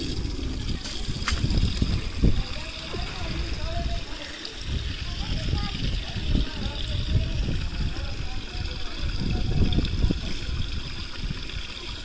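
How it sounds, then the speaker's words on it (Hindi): Water is being poured and filled into containers in a village, a steady splashing, trickling rush that runs close and continuous with small surges and clatters throughout. "पानी भरना पड़ रहा है"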